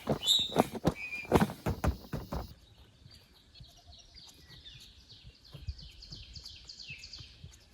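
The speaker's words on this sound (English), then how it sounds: "Buzz, golden-winged warbler." Golden-winged warbler giving a series of thin, high buzzy notes repeated through the latter half, faint and somewhat distant, after a burst of louder nearby knocks and handling noise at the start, in a wetland setting.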